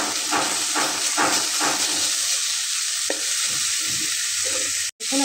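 Pointed gourd sizzling and frying in a pan, with a steady loud hiss and bursts of stirring scrapes that ease off toward the end, close by and with no voices.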